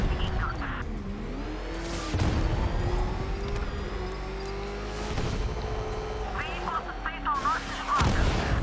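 Gunfire from the Batmobile in the video game Batman: Arkham Knight, bursts of loud blasts around the two- and five-second marks and at the end, over a continuous engine drone, with someone shouting at times.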